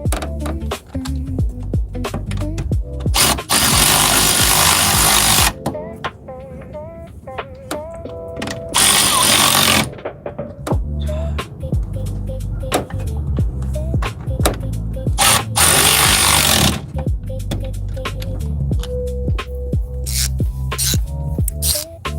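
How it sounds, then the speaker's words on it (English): A power tool runs in loud bursts, tightening 15 mm brake booster nuts on a Chevy truck, with harsh whirring spells broken by shorter buzzes and clanks close by. "We're gonna go ahead and tighten back up this brake booster."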